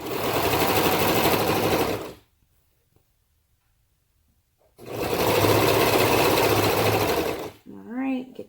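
A sewing machine stitches the back seam of stretch fabric high-waist bummies in two long steady runs, loud and close, separated by a pause of silence, then a short voice at the end.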